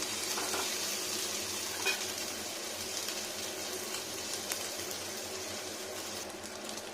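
Ginger, onion and garlic frying in a pan for an egg masala curry, a steady close sizzle with crackling spatters and a few faint clinks of stirring throughout.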